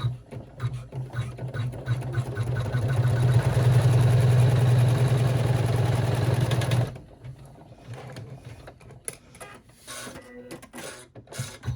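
An embroidery machine runs a running stitch to hold a pocket in place on a sling backpack in the hoop, a steady rapid mechanical whir and hum for several seconds before stopping, followed by quieter handling noises.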